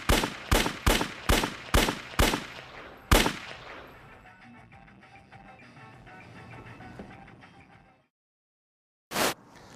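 Gunshots in a film scene: six loud, evenly spaced shots followed by a seventh, then a quiet stretch, silence, and one last sharp shot near the end.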